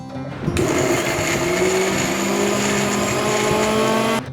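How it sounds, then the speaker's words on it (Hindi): A mixer grinder whirs loudly and steadily for about four seconds while grinding cabbage with a little water, starting and stopping abruptly. "इसे मिक्सी में डाल लीजिए और थोड़ा सा पानी डालकर इसे पीस लीजिए।"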